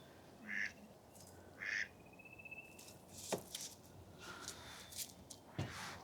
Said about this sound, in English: Wait, is it a duck or a mallard?